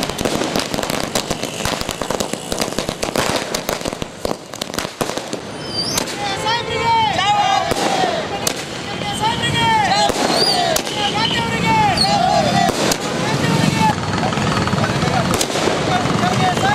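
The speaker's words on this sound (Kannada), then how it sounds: "ಕಾರ್ಯಕರ್ತರು ಹಾಗೂ ಸದಸ್ಯರು ಪಟಾಕಿ ಸಿಡಿಸಿ ವಿಜಯೋತ್ಸವ ಆರಂಭಿಸಿದರು." Congress party workers set off firecrackers in a Gulbarga street to celebrate, with dense crackling bursts and sharp pops in rapid irregular volleys, while voices and crowd noise carry on underneath.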